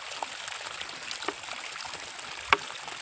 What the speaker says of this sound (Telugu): నేను ఇందులో పోస్తుంది ఏంటంటే చూడండి, ఆవు పేడతో తయారు చేసిన వాటర్ అండి ఇది.